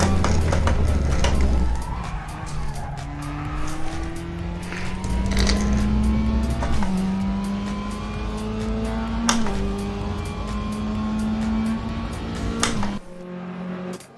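A race car in the racing game Raceroom roars through a ranked race, its engine droning loud and close and rising in pitch through gear changes, with tyre noise underneath and a sharp drop near the end.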